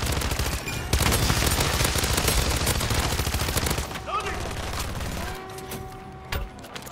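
Rapid, continuous SMG fire from a buffed submachine gun in Modern Warfare 3 Zombies hammers close and loud for about four seconds, then gives way to quieter game effects and tones.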